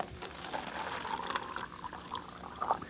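Water pours into a regular styrofoam cup during a kids' magic trick, a soft, steady trickling splash that lasts a few seconds and is close and faint.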